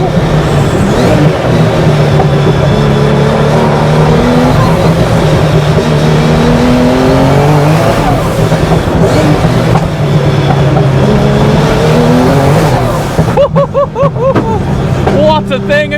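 A GuntherWerks Porsche 911 Turbo engine revs and rises and falls in pitch, heard from inside the car at close range, with crackling overrun near the end under a man's speech.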